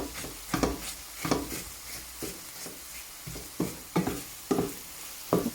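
Eggplant frying in a pan gives a quiet steady sizzle, broken by about eight sharp scraping stirs at irregular intervals, close and with no talking.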